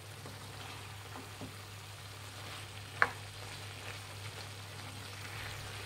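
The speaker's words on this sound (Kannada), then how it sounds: "ಮಿಕ್ಸ್ ಮಾಡ್ತಾ ಇದ್ದೀನಿ." Garam masala and coriander powder are stirred in a pan for Punjabi chicken kurma, making a soft, low sizzle under a steady hum, with one sharp tap of the spoon midway.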